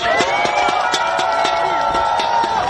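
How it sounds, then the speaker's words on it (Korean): A crowd at an election campaign rally in Dongdaemun, Seoul, cheers and claps in a steady, loud roar, with rhythmic clapping beats showing through the dense noise. "뜨거운 성원의 박수를 부탁합니다"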